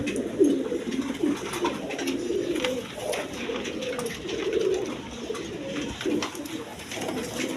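Pigeons kept in a coop for sale, with hatched chicks among them, coo in repeated low throaty rolls close by, one bird after another, with no talking.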